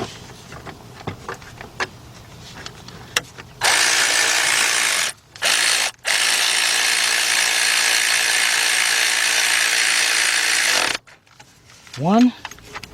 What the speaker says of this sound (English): got my 13mm deep with my big bill ratchet